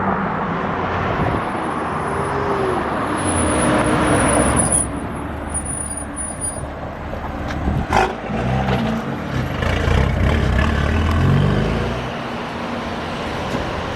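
A heavily modified BMW M4 G82 drives down the street and back, its engine a continuous loud rumble with a brief sharp swell near the middle, while a high whine and general road noise fill the background.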